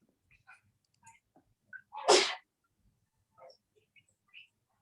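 A single loud sneeze bursts out amid quiet background chatter, standing clearly above the faint voices around it.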